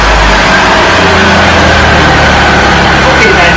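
Car engine idling steadily after a $12 exhaust leak repair, the hole now wrapped; a loud, continuous low rumble close to the microphone with a faint higher whine, no talk over it.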